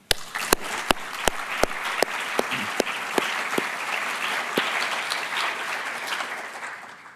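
An audience at an ASIL conference applauds to welcome Ambassador Ahmet Üzümcü: a few sharp early claps swell into full, steady applause that fills the room and then slowly fades, with no speech.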